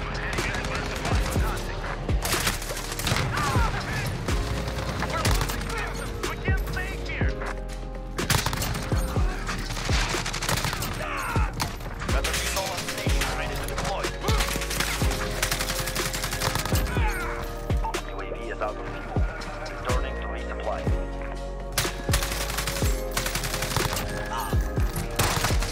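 Dense, continuous video game gunfire from Modern Warfare, with rapid automatic bursts and sharp shots repeating throughout a busy firefight.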